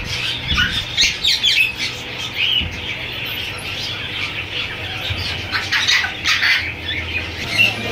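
Lory parrots and other caged birds at a Sunday bird market in Bahawalpur keep up loud, overlapping squawks and sharp chirps, with some wing flapping, close by and continuous throughout.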